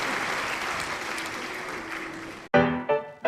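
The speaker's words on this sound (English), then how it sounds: "The curtain falls and the crowd rises and cheers and roars" A theater crowd rises to cheer and applaud as the curtain falls, a dense wash of clapping and roaring that runs steadily, then cuts off abruptly into darkness, followed by a couple of brief, sharper bursts.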